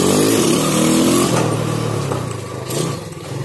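A Yamaha Jupiter Z motorcycle revving with its air filter removed, loud and close, the engine note climbing, easing off and blipping up again in short bursts.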